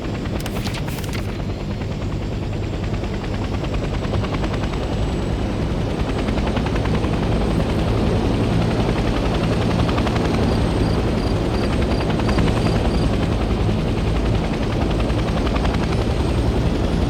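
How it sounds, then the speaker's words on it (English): A military helicopter in the Vietnam-era shooter Hell Let Loose Vietnam roars loudly and steadily from start to finish, its thudding rotor and engine drone filling the scene without speech. "I'm not going to be piloting choppers."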